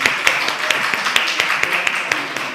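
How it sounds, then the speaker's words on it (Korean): A church congregation applauding during a Sunday service as middle school, high school and young adult members come forward to sing, a steady patter of claps with scattered sharper hits and some voices underneath. "우리 지체들 앞으로 박수로 모시도록 하겠습니다"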